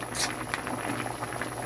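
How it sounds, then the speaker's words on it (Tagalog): A salted homemade dish simmers in a pot, giving a brief stretch of soft, continuous bubbling and gurgling with a few small pops. "Kumulo na siya."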